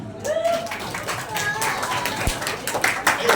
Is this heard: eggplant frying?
no